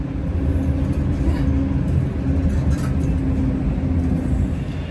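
Steady low rumble of the Alicante-to-Benidorm tram running, a constant droning hum inside the moving car with faint rattles and no clear voices.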